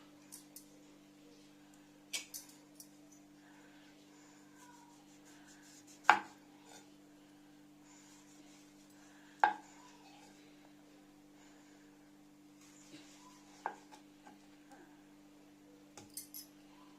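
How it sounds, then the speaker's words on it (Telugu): Two ripe mangoes cut with a knife for mango pudding, giving a handful of sharp, isolated clicks and knocks against a board at irregular intervals over a steady low hum, near and fairly quiet. "బాగా పండిన 2 మామిడి పళ్ళను తీసుకుని కట్ చేసుకుందాం"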